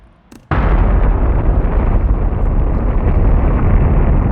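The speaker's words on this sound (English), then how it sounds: "And here is the explosion." After a brief quiet moment, a massive explosion erupts and rolls on as a loud, sustained roar with deep rumbling.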